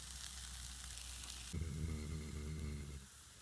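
A breakfast fry-up sizzles in a pan at a winter wild camp, a soft, even crackle close by, joined midway by a droning hum that fades near the end.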